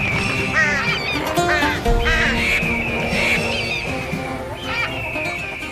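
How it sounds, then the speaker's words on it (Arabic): A flock of ducks and geese gathering together, quacking and honking repeatedly at close range in a dense, overlapping chorus. "لماذا تتجمع الطيور في هذه الناحية؟"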